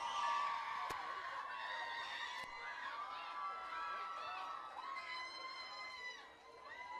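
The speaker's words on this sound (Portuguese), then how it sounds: "¡Fuerte aplauso!" A school crowd at a queen and prince election applauds and cheers for a 17-year-old contestant, a faint, distant mix of shouts, whoops and clapping with chatter throughout.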